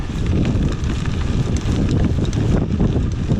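Strong gusts buffet the microphone on a gravel bike ride, giving a loud, continuous low rumble and roar that fills the whole stretch with no speech.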